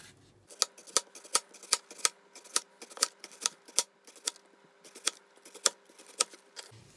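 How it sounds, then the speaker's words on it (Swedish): A sharp kitchen knife chops through onion into rings on a board, giving a steady run of crisp, close knocks, about two to three per second, with no talking. "Det här är en ganska bra kniv för att skära lökringar."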